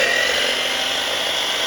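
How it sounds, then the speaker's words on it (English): A miter saw cuts wooden planks for a van roof deck. A loud, steady, hissing and whining blade noise runs through the whole short stretch without a break. "ready to use this miter saw"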